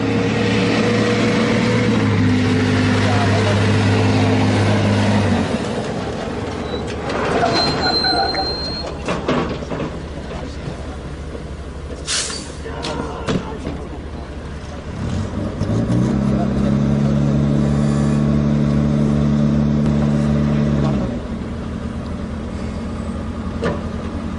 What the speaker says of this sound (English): You will now see the Bofors gun towed by a tow truck called the Scania.